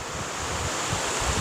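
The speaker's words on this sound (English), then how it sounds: "It's getting blustery." Blustery wind buffets the microphone on a mountain day hike in the Bitterroot Mountains of Montana, a loud rushing roar with low gusty thumps over a short stretch, with no talk.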